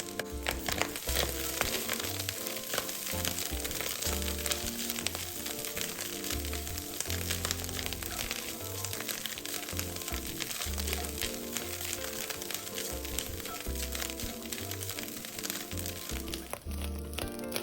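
Minced dried shrimp and soaked preserved sweet radish are stir-fried in a wok for taro cakes, giving a dense, continuous sizzle with rhythmic scraping and clattering of the spatula throughout, close and loud.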